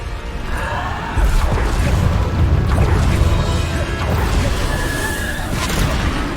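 Bombarda explosion spell cast in the Hogwarts Legacy game, heard as a dense stretch of booming, crashing blasts and whooshes over constant game noise, with a loud burst near the start and further hits following.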